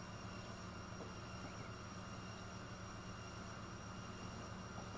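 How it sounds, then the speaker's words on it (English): A train rolls past in the Transport Fever 2 simulation, a steady broadband rumble with a faint high whine holding evenly throughout, no clear approach or fade, with no voices. "And the next train is rolling up behind it, it looks like."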